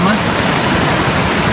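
Water rushes steadily at the Bishnumati and Bagmati river confluence after unseasonal rain, a dense, even roar filling the clip without pause and with no voices.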